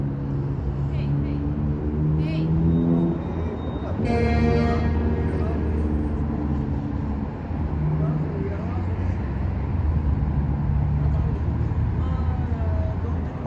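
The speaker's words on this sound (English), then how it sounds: "That's our bus. I think it's around the corner." Traffic rumble on Finch Avenue West in Toronto as a city bus draws near, engine drone swelling with a brief horn-like tone, heard under people talking nearby.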